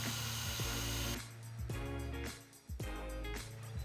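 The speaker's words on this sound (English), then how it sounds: "I drilled out a couple of holes in the top of each pane" A power drill bores holes through an epoxy resin stained glass pane, a steady motor whine that runs, pauses briefly and starts again, close and fairly loud with no talking.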